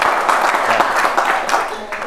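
An audience at an Indonesian-language seminar claps in steady, dense applause for about two seconds, fairly loud, with voices mixed in.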